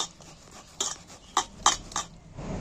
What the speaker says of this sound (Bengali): এঁচোড়টা একটুখানি নরম করার জন্যে, ছোট করার জন্যে এই চেঁচে নিচ্ছি চাঁচুনি দিয়ে।